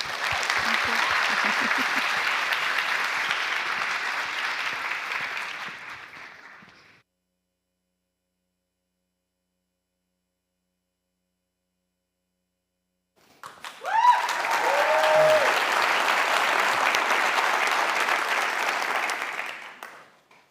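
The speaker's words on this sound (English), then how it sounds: "And for that, we applaud." Audience applause at a live social venture pitch event on stage, two separate bursts of sustained clapping, each lasting about six to seven seconds, divided by several seconds of silence.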